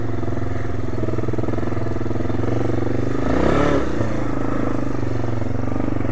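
A 1997 Yamaha Big Bear ATV engine runs steadily while the machine crawls over rocks, a close continuous rumble that swells briefly with a clatter midway.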